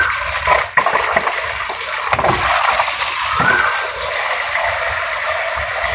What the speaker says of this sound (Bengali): এই মোটর ছাড়লে এই যে পাইপটা আছে না, এই পাইপটা দিয়ে পানি আসে।